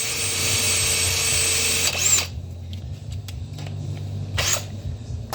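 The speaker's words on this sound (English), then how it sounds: "we just want to get a really nice pilot hole started" A power drill bores a pilot hole with a small bit into hardened steel on the lower door panel of a 1951 Ford sedan custom, a loud steady whine for about two seconds, then quieter intermittent drilling with brief bursts.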